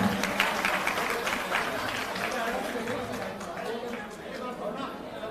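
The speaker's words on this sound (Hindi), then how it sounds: "जोरदार तालियों के साथ" Applause from a crowd at a political rally in Kashipur, Uttarakhand, a dense steady clatter of clapping mixed with crowd chatter, loud and continuous throughout.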